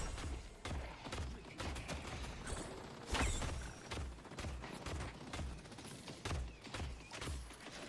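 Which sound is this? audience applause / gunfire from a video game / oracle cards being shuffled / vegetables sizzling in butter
gunfire from a video game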